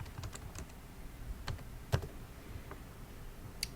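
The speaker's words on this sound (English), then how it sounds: "So I'm going to type that in at the top here." Keys clack on a computer keyboard as a search is typed, a close run of irregular taps with a few sharper presses and no talk.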